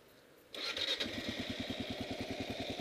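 A motorcycle engine starts after a short silence and settles into a steady idle with rapid, even pulses, while a bright metallic whir like rattling ball bearings runs over it after an oil change. The engine is close and loud, and no one speaks.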